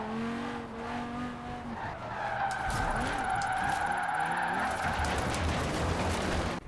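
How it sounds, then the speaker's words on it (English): Audi RS6 drifting sideways on track tires in Forza Horizon 4, a steady loud engine roar with sustained tire squeal and skidding noise throughout, starting alone and growing fuller partway through. "you get this thing sideways and it just keeps on sliding"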